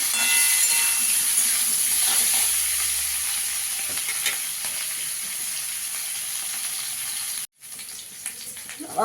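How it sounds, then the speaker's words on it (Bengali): Boiled potatoes frying in oil in a pan, a close, steady sizzle and hiss with occasional stirring scrapes, fading slightly before a brief cut near the end. "আলুগুলোকে ভালো করে ভেজে নেবো।"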